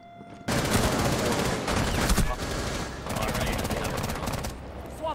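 Rapid, loud automatic gunfire in Rainbow Six Siege, aimed at the operator Jaeger, comes in dense, sustained bursts with brief pauses between volleys.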